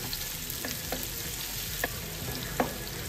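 Onions frying in oil for semolina chips, a steady low sizzle with faint crackles and a few sharp spatter pops near the pan, no voices.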